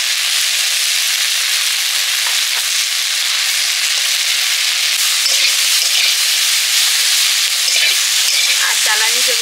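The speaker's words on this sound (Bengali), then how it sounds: "এইখানে উনুনে দারুণ টুকরোতে ভাজাটা হয়।" Taro flowers and shrimp fry in oil and are stirred on a wood-fired clay stove, giving a loud, continuous sizzle with occasional scraping stirs.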